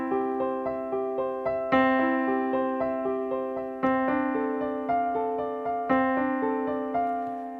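Piano playing Bach's Prelude in C as steady rising broken-chord arpeggios, with the first and third beats of each bar struck more heavily, clear and close with no speech.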